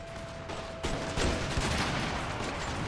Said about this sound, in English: now pick new targets and fire at will